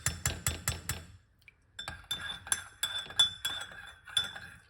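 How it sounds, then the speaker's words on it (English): A metal teaspoon stirs honey into a drink in a glass. It makes a quick run of bright, rhythmic clinks against the glass, pauses briefly, then carries on with a steady series of ringing taps, close and clear. "we just put a teaspoon of honey inside of it and give it a mix"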